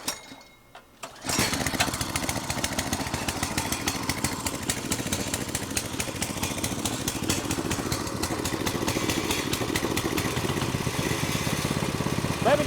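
Small gas engine on a cheap mini bike starts after a pull and runs continuously with a loud, steady buzzing drone and slight revving, close by, with no talk over it.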